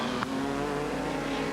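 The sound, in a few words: sport sedan race car passing on track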